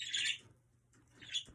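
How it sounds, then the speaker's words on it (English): Small birds chirp and tweet nearby in two bright bursts, one at the start and another near the end, with a quiet gap between and a low steady hum underneath. "Noisy, noisy, noisy birds."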